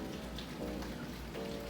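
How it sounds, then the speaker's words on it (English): Heavy rain pours steadily outside, a dense continuous hiss of drops drumming on surfaces, faint and even throughout with no voices. "Y'all, it is raining so hard."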